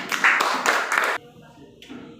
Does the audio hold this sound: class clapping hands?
yes